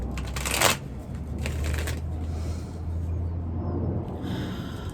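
Tarot cards are riffled and shuffled in a few quick, crisp bursts close by, the first loudest, over a low steady hum with no talk.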